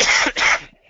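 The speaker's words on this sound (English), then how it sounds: "again, pardon my cough" A single loud, close cough breaks into two quick bursts and then fades.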